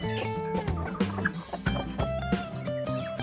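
Broody hens, Ixworth cross chickens, make close, continuous clucking and gobbling calls with overlapping tonal warbles.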